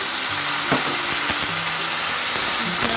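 Onions, ginger and garlic fry over medium heat in oil with browned cumin for chole. A loud, continuous sizzle carries intermittent scraping stirs and soft clunks.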